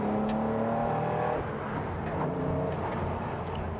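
A Porsche 911R tribute on a track, its engine pulling hard as the driver rows through second and third gear, with a loud revving note that drops briefly at a shift and then climbs again.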